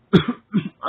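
Two distinct coughs from one person, close and fairly loud, each a sharp burst followed by a short rough tail, separated by a brief pause with the start of a third at the end.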